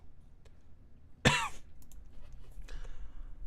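One sharp cough from the Tsukihime visual novel, sudden and close, then quiet room tone with faint rustling.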